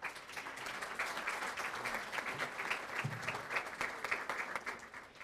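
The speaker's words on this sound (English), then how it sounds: "Let's give them another round of applause" A crowd at an ESL graduation ceremony on a Naples campus gives a steady round of applause. The clapping is dense and continuous and sounds somewhat distant and quiet, with a faint voice murmuring underneath.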